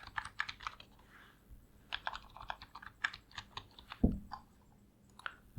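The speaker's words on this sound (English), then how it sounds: "So I just want to type here my name" A computer keyboard is typed on at close range to enter a name for a new Zoom account, with quick bursts of light key clicks, brief pauses and one heavier thump near the end.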